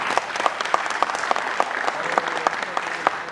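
A theatre audience applauds a stage play at the Patarangam festival in Patna. The clapping is steady and dense, with regular louder beats that suggest rhythmic claps, for a few seconds.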